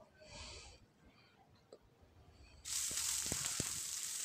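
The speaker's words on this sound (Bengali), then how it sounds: "পেঁয়াজটা ভেজে নেব।" Onion drops into hot oil with whole garam masala and cumin seeds for matar pulao; after a quiet start, a sudden steady sizzle bursts in, close and bright, with a few small pops.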